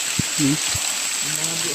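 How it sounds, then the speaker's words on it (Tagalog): Heavy rain pours down along a road, a dense, constant hiss filling the whole clip while people speak briefly over it. "Kasi sobrang lakas ng ulan."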